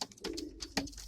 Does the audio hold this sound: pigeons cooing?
yes